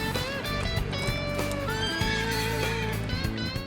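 Horses neigh and whinny loudly, with high wavering calls rising over one another and steady background bustle, as riders prepare their mounts before the Rose Parade on Colorado Boulevard on New Year's Day.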